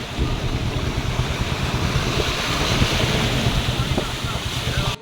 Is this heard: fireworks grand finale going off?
no